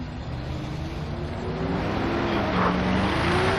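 A bus engine drones steadily in the Borderlands game, a continuous low rumble with faint tonal whine rising slightly toward the end, no talk over it.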